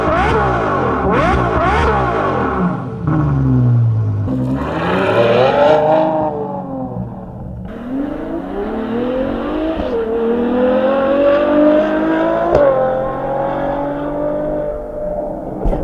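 A Ferrari FF with a custom X-pipe exhaust and muffler delete revs hard, its engine note swooping up and down through repeated loud blips before settling into a sustained, rising drone.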